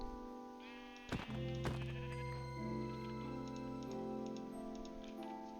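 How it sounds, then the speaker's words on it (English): Sheep bleating in the Minecraft video game, a few clear, close bleats over a steady layer of in-game background music and sound. "That was my first time killing a sheep."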